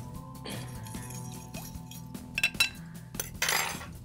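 A spoon scrapes and clinks against a pan while batter is stirred into a fish korma curry, with sparse metallic taps and a few louder clatters over a quiet background.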